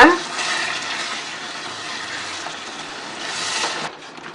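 Water from rinsing a mixer jar poured into a tamarind-based medicinal gravy, a steady splashing pour for about four seconds, close and fairly loud, ending abruptly.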